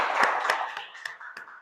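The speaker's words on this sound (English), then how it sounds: "Big round of applause for my target speaker, Professor Arjun." A few scattered hand claps from a small audience at a Toastmasters club meeting, greeting a speaker; about six sharp, separate claps, fairly close, thinning out over a moment.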